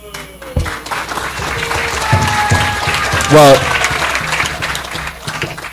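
A crowd at a live-streamed devotional program breaks into applause, a broad wash of clapping that swells and holds for several seconds while a voice carries over it.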